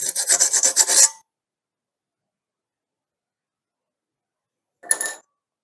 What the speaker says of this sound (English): Sometimes you have a larger area, so use the file and rub it along the blade.